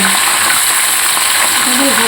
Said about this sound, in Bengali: ভালো করে একটু ভাজা ভাজা করে নেব মাংসটা